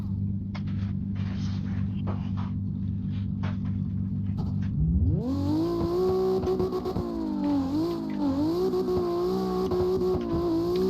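A V6 twin turbo drift car engine holds a steady low idle, then revs sharply and stays high, wavering up and down with a raspy, loud tone.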